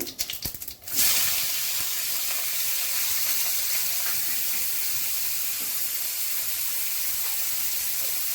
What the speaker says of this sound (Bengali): জিরে গরম মশলা ফোড়ন করছি